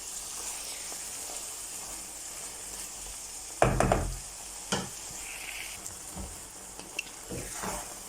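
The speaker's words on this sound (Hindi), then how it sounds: "तो अब इसको अच्छी तरह भून लेंगे तड़के के अंदर।" Chana dal frying in hot tempering oil, a soft steady sizzle with a few louder stirring scrapes and clatters near the start and scattered through.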